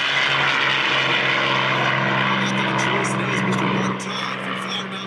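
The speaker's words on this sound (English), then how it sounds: "And the P-63 now takes to the air to show off a little." Bell P-63 Kingcobra warbird taking off at an air show, a loud droning piston engine and propeller roar with a steady low hum that fades slightly toward the end, with faint crowd sounds behind.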